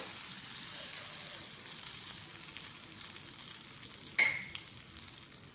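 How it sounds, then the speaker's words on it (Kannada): Steady hissing sizzle of a spice tempering in hot oil for raw mango menskayi, fairly soft, with one brief sharp clink of a utensil near the end. "ಅದಕ್ಕೆ ಈಗ ಒಗ್ಗರಣೆನ ಹಾಕೋಣ"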